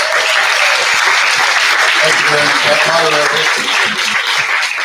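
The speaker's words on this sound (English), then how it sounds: "I'd like all of us to give a round of applause for that." An audience at a book talk bursts into loud, steady applause, a thick wash of clapping with voices and some cheering mixed in.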